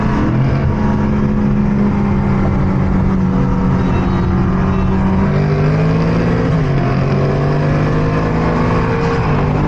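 A V8 car drag races a built JDM car, engines droning loudly and steadily up close with a sustained rising tone, then dropping pitch at a gear change before climbing again, with no talk over them.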